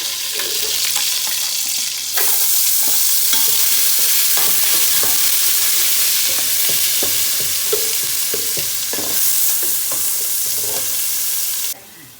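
Loud, continuous sizzling of onion and ginger paste sautéing in a hot frying pan, with occasional scraping and stirring clatter throughout; no voices.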